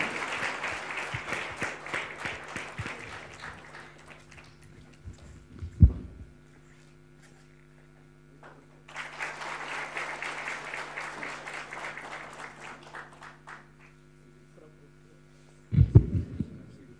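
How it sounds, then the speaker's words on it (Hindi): Audience applause at a tribute concert for Kalam: two sustained rounds of clapping from a crowd, separated by several seconds of quiet with a low hum, then a short burst near the end. "छोटी ताली मेरे लिए हो जाएगी यार"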